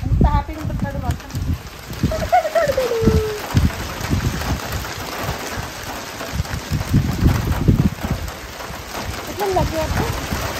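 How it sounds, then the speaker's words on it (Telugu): Rain falls steadily over a farm, a broadband patter running throughout, with voices talking over it at times. "ఎట్లా లక్కీ వర్షం."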